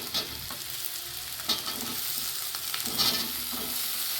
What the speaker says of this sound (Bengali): এই যে এবার সবজিটা সুন্দর ভেজে নিচ্ছি, এই পেঁয়াজ রসুন সব ভেজে নিচ্ছি।